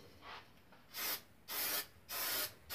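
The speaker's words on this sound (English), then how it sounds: "I'm going to spray my pans down." Butter-flavored cooking spray misted onto non-stick cake pans in a home kitchen: three close, hissing bursts about half a second each, with a fainter first spray before them.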